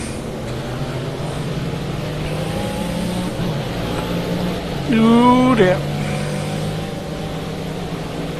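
A Mercedes-Benz CLK LM GT race car roars through a racing video game, its engine note a steady high drone with a brief rising rev midway, and someone talks over it.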